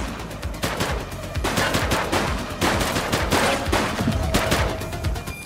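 Bursts of rapid gunfire from Call of Duty: Black Ops 6 come close and loud in repeated volleys of fast shots with brief gaps between them, with no talk over them.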